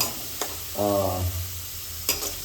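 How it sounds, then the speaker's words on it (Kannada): Onions frying in oil in a pan over medium flame for a chicken sambar, with a continuous sizzle, a few sharp stirring clatters and a short buzzing hum in the middle. "ಬ್ರೌನಿಶ್ ಆಗೋವರೆಗೂ ಈರುಳ್ಳಿನ ತಾಳಿಸ್ಕೋಬೇಕು"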